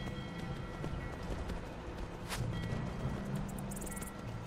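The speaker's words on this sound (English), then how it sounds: "my horse is going crazy, I'm sorry, I'm gonna ride it away" Rapid galloping hoofbeats of a horse in a video game, a steady quick clip-clop rhythm under a dense continuous game soundscape, moderately loud and close.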